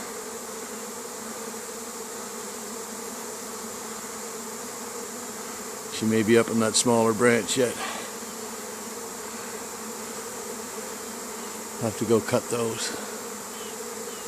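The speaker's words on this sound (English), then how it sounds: "Lots of bees here now." A honey bee swarm at an apiary, with a continuous busy buzzing hum close to the microphone throughout. Someone speaks briefly twice over it.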